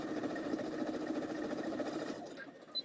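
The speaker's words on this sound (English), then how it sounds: "Now I'm going to sew on that line." A sewing machine stitches fabric in a fast, steady whirring rattle for about two seconds, then stops, leaving a faint click.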